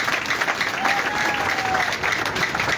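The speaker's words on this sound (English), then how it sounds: "Please clap for yourselves." A crowd of supporters at a political speech applauds steadily, a dense, continuous clatter of many hands filling the whole stretch at moderate level.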